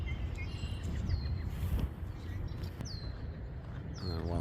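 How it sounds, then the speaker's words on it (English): A wild bird near the water at Terrace View Park in Lombard, Illinois, gives a few short, sharp, downward-sliding calls spaced a second or so apart, somewhat distant over outdoor background noise. "We're trying to figure out what kind of bird this is here."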